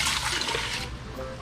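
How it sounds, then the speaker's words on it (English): Water pouring into a cooking pot of rice with butter, a steady close splashing rush lasting a moment, with no talk over it. "gonna add more water"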